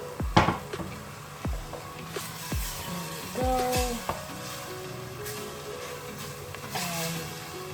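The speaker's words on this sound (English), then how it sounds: "So just stir that around in the pot so everything can be mixed through" Scraping and clinking of a spoon stirring butter chicken in a cooking pot, with soft sizzling underneath and a brief spoken remark.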